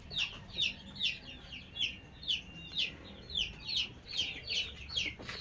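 Chickens cluck in a steady, repeating series of short calls, moderately close, over a low background hum.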